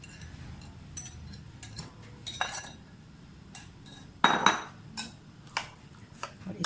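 A spoon mixes beaten eggs into chopped onions in a bowl, making a run of quick clinks and scrapes against the dish, with one louder clatter partway through.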